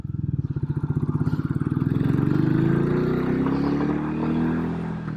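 A Royal Enfield Classic 350 single-cylinder motorcycle thumps loudly close by while downshifting. Its rapid, even pulsing firing beat holds steady, then the engine note slides and settles into a lower, smoother drone.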